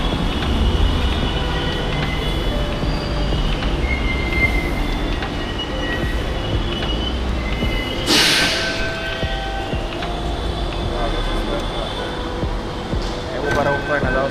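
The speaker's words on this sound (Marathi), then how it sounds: "आपली आली मेट्रो" A metro train arrives at a station, steady rumbling rail noise and rolling wheels with a brief bright squeal or hiss midway, heard from the platform with people talking nearby.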